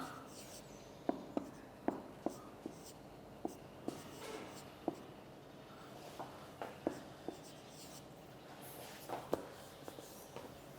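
A teacher writing on a board during a lecture, with sharp, scattered taps and short scratching strokes close by, quiet and irregular over a faint room hiss.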